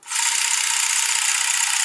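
A Soviet KS-50B military film camera mechanism starts up and runs with a steady, even rustling whir, close and fairly loud, continuing without pause.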